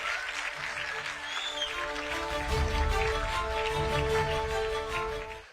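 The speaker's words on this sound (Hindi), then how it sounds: "जोरदार तालियों से स्वागत करिए आप" A TV conclave audience applauds Dhirendra Shastri as he arrives on stage, a broad wash of clapping over loud background music with a thumping low beat, fading out at the end.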